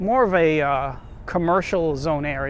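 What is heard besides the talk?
No everyday noises stand out.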